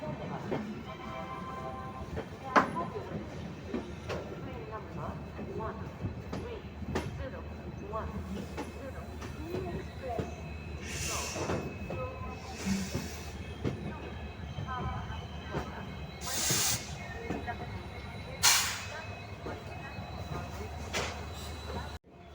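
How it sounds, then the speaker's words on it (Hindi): Tanakpur–Dehradun Weekly Express with LHB coaches pulling out of Moradabad, a steady low rumble of rolling wheels with occasional clanks and bursts of hiss, heard from on board with faint voices in the background. "अपनी देहरादून वीकली एक्सप्रेस जो है अपने 8वें स्टॉपेज मतलब मुरादाबाद से भी निकल चुकी है"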